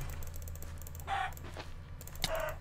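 Chickens in the Minecraft video game give two short clucks, separated by a brief pause, heard fairly faintly over a low steady hum.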